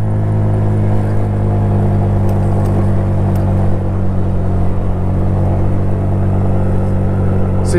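A Honda Beat scooter at full throttle on the trans-Sumatra road, its engine holding a steady, loud, droning rumble with no letup throughout.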